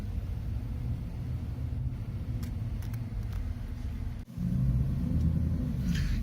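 A 2008 Porsche Cayenne S rumbles at low speed as it rolls off a driveway onto a lawn, its engine a steady close drone that briefly drops out and then returns slightly heavier.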